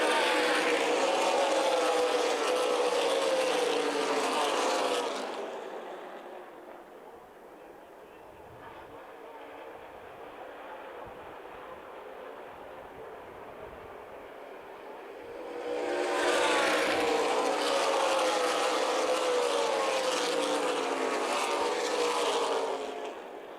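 Stock race cars at Toledo Speedway roar past in a loud pack, then their engines fade to a distant drone for several seconds before a second loud wave passes close by.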